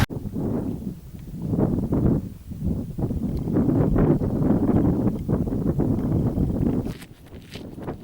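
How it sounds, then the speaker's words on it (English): Gusty westerly wind at Loch Ossian, rough buffeting rumbles that swell and fade in repeated gusts against the microphone, loud and close, easing near the end, no voices. "there's a gusty westerly wind at my back"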